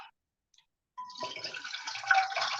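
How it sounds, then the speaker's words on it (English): Water poured from a container into a pot on a stovetop at medium-high heat, starting with a brief ringing tone and then becoming a steady, close splashing pour that lasts to the end. "So I'm putting in some water first."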